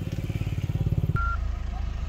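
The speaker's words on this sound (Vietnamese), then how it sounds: "Em nổ máy rồi anh em nhé." A 2012 Nissan Navara pickup with a 2.5-litre diesel engine and manual gearbox, 4WD, clatters into life with a rapid low rhythmic chug that settles into a steady idle, loud and close.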